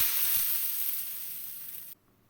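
Tempering of mustard seeds, asafoetida and two dried red chillies sizzles in hot oil for ponnanganni greens rasam, a loud, steady close hiss that eases slightly before cutting off abruptly, with no talk.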